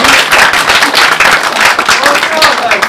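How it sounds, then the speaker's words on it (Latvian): An improv theatre audience claps steadily in a dense, loud burst of applause for a performer named Alisa, with a voice speaking faintly over the clapping. "aplausus Alisai"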